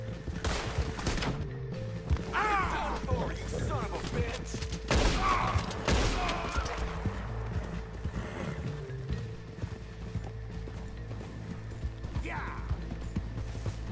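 Gunshots crack out in a video game in a few sharp bursts, mixed with horse hooves and whinnies, while a voice talks.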